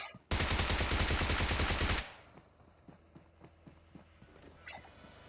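A loud burst of rapid automatic gunfire for about two seconds, then quieter scattered shots and clicks in the background, in the game PUBG Mobile.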